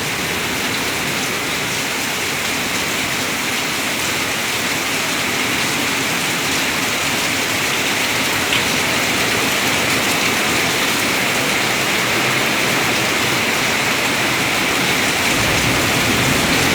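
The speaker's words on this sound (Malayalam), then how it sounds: "കാഞ്ഞിരപ്പള്ളി ആനക്കല്ലിൽ പെയ്യുന്ന മഴയുടെ, ശക്തമായ മഴയുടെ ദൃശ്യങ്ങളാണ്" Heavy rain pours at Anakkal in Kanjirappally, Kerala, in the afternoon, a loud, dense and unbroken hiss that continues without a pause.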